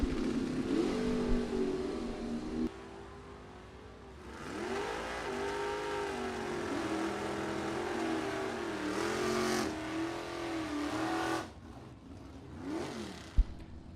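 An SN95 Mustang in the right lane and a 1969 Chevy Nova in the left launch off the line at a bracket drag race, engines revving hard and roaring loudly as they pull away, with a sharp pop near the end.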